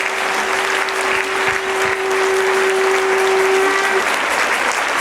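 Loud, sustained applause from a congregation at a Cristo Rey church retreat, a continuous wash of clapping holding steady throughout, with a low hum running beneath.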